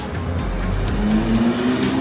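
A Porsche GT3 sports car drives past on a Monaco street, a loud continuous engine note rising in pitch against busy city background noise.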